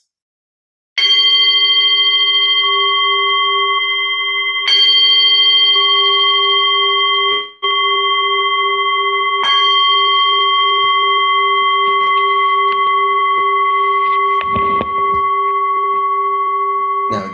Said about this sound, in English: So now I'll just ring the bell